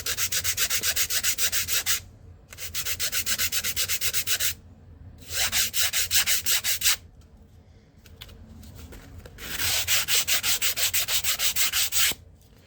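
An edge sander grinds a bevel onto a plastic model part in repeated loud bursts of rasping abrasion, each lasting a couple of seconds and separated by brief pauses.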